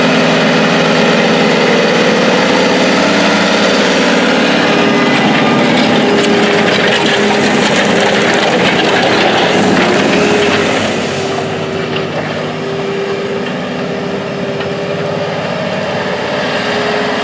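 A big John Deere 9620R tractor engine drones loudly and steadily while plowing a field, with mechanical rattling throughout, easing slightly toward the end.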